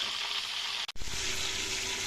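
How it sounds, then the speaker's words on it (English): Steady, dense sizzling of a whole duck frying in hot oil, loud and close, briefly cutting out for a moment before resuming. "All these are very important while you're turning and frying the duck."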